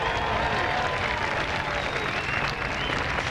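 A crowd at a 2005 men's pro beach volleyball semifinal in Santa Barbara claps and cheers steadily, a broad wash of applause with a commentator's voice faintly under it.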